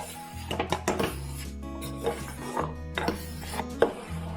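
A large ladle stirs milk in a pot for homemade ice cream, giving irregular scraping and knocking against the metal over a low steady hum, close and moderately loud with no talk.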